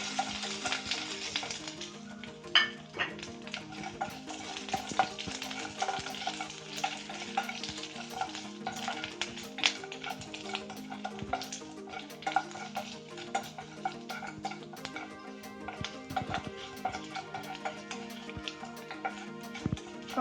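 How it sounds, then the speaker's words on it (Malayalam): Ginger and garlic stirred and fried in a pan for Kerala-style beetroot pickle, a steady close sizzle with frequent light clicks and scrapes from the spoon against the pan throughout, no talking. "ഇനി ഒരല്പം പച്ചമണം മാറുന്നതിന് വേണ്ടി നമുക്ക് ഇളക്കി കൊടുക്കാം."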